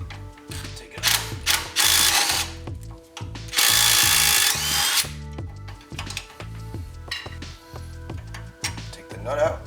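An electric tool with a 15mm socket spins off the upper ball joint nut on a 2001-2005 Ford Explorer Sport Trac's front suspension, with two loud sustained bursts of whirring and rattling amid sharp mechanical ratchet clicks.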